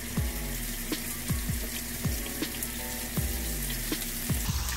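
Samgyup pork belly sizzles loudly in a pan, with a steady frying hiss and repeated scraping knocks from stirring at a regular rhythm.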